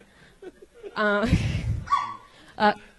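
A dog barking effect fired from a soundboard during a live comedy show, two or three short loud barks with yips, a crowd reaction swelling between them and speech nearby.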